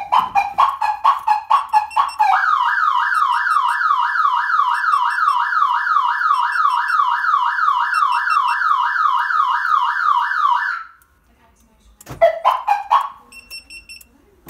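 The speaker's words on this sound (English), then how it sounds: "If the vehicle is hit or any of the doors are pried open, it will fire off the alarm system." A Python 3305p aftermarket alarm on a 2011 Ford F-350 dually diesel truck sounds off close and loud: a few short chirps, then about eight seconds of a rapid warbling siren, a pause, and a brief burst of chirps.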